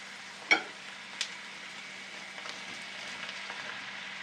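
Carrot frying with onion in a pan gives a steady low sizzle, broken early by a couple of sharp stirring clicks, and nobody speaks.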